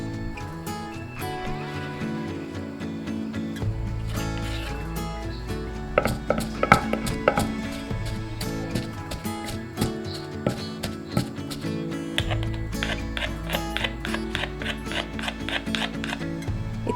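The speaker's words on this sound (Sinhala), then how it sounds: "දැන් මේකට පොල් ටික එකතු කරගෙන හැන්දෙන් කලවම් කරලා අයිමත් හොඳට පොල් ටික කොටා ගන්න ඕනේ" Grated coconut being pounded and mixed for Sri Lankan pol sambal gives bursts of sharp, irregular knocks and taps, near and fairly loud, over a steady tonal background that sounds like music.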